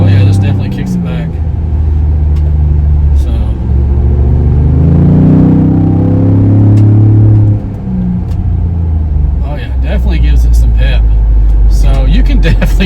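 Ford Bronco with a K&N intake and hot and cold side piping kit cruising on the road, a loud steady engine rumble and drone that swells as it accelerates, with people talking inside the cabin.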